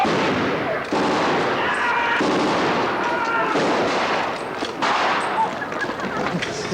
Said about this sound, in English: The few Italian civilians and station staff flee at the first sounds of gunfire.